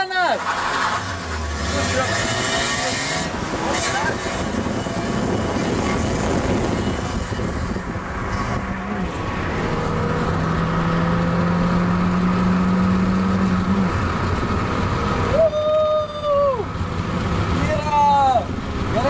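A Ford Puma and an Opel Astra in a drag race, engines roaring and building under steady road and wind noise, heard from inside a car with people talking over it.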